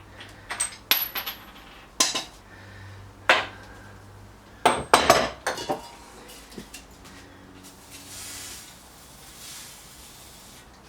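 Sharp metallic hammer blows strike a stuck motorcycle bracket, a handful of irregular close, loud clanks with ringing tails, then quieter fiddling as the work pauses.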